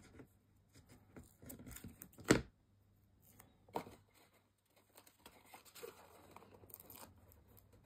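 Tape pulled off a roll and torn for a Christmas bauble craft: a sharp close rip stands out among several softer tearing and crinkling sounds, with quiet gaps and no talking.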